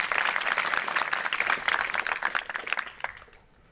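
Audience applause at a debate, a dense burst of hand claps filling the room at fairly close range, then thinning and fading out near the end.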